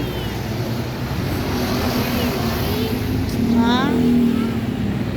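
Jeepney engine idles nearby on a street, a low steady droning hum that swells slightly toward the end, loud and close, while people talk over it.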